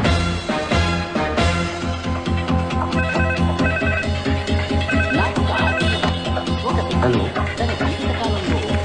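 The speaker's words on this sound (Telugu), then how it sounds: "నీకు ఫోన్" A telephone ringtone plays in a Telugu comedy film scene from Snehithudu. It is a steady, melodic electronic ring that continues without a break throughout.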